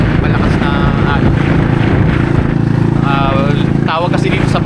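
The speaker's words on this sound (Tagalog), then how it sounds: "Malakas ang hangin, malakas na alon." Strong wind buffets around a small wooden fishing boat out on rough waves, a loud constant roar with a low engine-like rumble underneath, while someone talks over it throughout.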